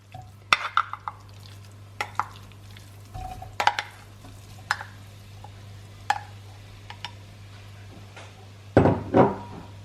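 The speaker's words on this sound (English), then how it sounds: "we're going to be adding in our mince into our preheated pot" Mince browning in a preheated pot, with scattered spatula scrapes and knocks over a low steady hum, then a louder burst of sizzling and stirring near the end; no voices.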